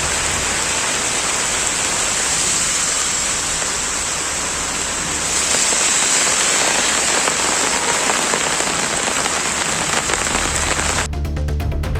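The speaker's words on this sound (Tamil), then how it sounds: "மேட்டுப்பாளையத்தில் குளிர்ந்த காற்றுடன் மிதமான மழை பெய்தது." Moderate rain falls steadily with cold wind in Mettupalayam, a dense even hiss that swells slightly midway and stays loud and close, with no voices.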